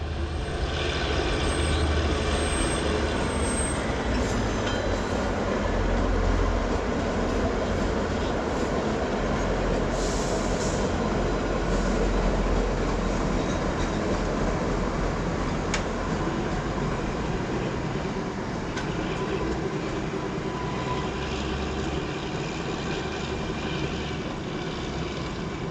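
A Shivalik Deluxe train on the Kalka–Shimla narrow-gauge line rolls slowly across the Kanoh arch bridge at restricted speed, a continuous broadband rumble heard from a distance with wind-like wash throughout and no talking.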